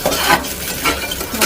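Onions are being sautéed and stirred in a pot with a ladle, giving soft sizzling with light scraping strokes close by.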